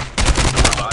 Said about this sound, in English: What the hell is shooting?